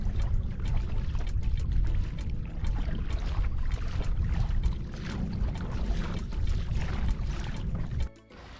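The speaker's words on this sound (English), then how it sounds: "We're paddling right along the edge of the seagrass with the sand on the right" A kayak paddles along the edge of seagrass over sand in Crandon Park, with water splashing and trickling from paddle strokes in a steady close wash, ending in a sudden quieter moment.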